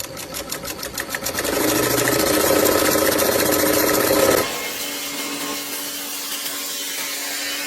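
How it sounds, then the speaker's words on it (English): A sewing machine with a binder attachment folding fabric edges runs in a steady, fast mechanical whir, speeding up and then dropping to a quieter motor hum partway through. "This sewing machine attachment, called a binder, perfectly folds fabric for a flawless edge"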